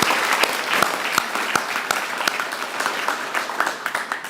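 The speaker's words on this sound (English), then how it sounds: "Give him a round of applause" An audience applauds a guest, Dr. Gant, at a university security program event, steady dense clapping from a crowd in a hall, close and sustained throughout.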